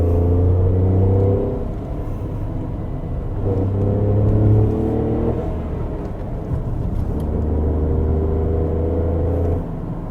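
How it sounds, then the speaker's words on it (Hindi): A Tata Tiago CNG hatchback cruises in second gear at about 2500 RPM, its engine giving a steady low hum and drone with mild rises and dips in tone throughout, heard from inside the cabin. "सो यू कैन सी यहाँ पे हम 2500 RPM पे क्रूज़ कर रहे हैं सेकंड गियर पे"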